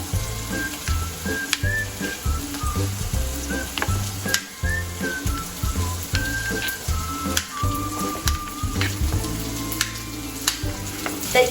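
Onion frying in a pan, a steady close sizzle with irregular crackles and occasional brief whistling tones, no voices.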